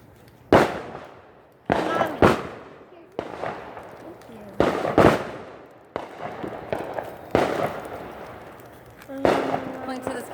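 Sky cannon fireworks burst outdoors in a rapid series of sharp, loud booms, about eight big explosions over ten seconds with crackling tails, while people talk and cheer between the blasts.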